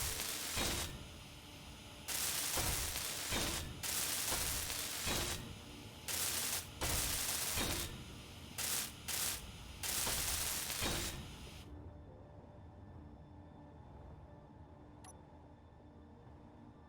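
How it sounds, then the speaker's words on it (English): Welding blocks in the video game Space Engineers: loud, hissing, static-like bursts that start and stop in an irregular on-off pattern, then cut out abruptly, leaving faint room tone. "I'm just gonna start welding these though, so that way they like get built up"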